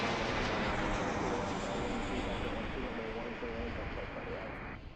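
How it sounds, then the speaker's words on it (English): A jet takes off at Washington Reagan National Airport, a loud steady broadband engine roar filling the clip and easing slightly at the end, with someone talking over it. "So this one's taking off, and I see 3 arriving behind it."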